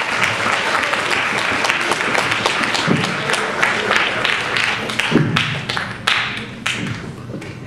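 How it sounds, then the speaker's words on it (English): An audience applauds at a school geography bee: sustained, loud clapping from a crowd that continues throughout with some uneven, sharper claps. "Let's give everyone a round of applause."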